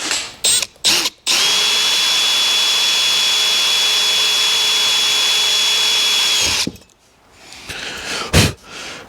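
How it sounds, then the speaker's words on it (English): A power drill whines steadily for about five seconds at close range, drilling a small hole at the end of a crack in an outboard motor's lower unit, preceded by a few short bursts and followed by quieter handling noise. "I'm just going to drill a little hole right at the end of this crack"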